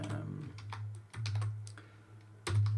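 Keys clatter on a computer keyboard in short bursts of quick taps with brief pauses between them. The sound is close and fairly quiet, and a low hum sits underneath.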